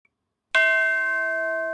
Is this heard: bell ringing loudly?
yes